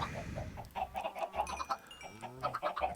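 Minecraft chickens cluck in a quick, uneven series of short clucks with occasional higher squawks, fairly quiet and close, no one speaking.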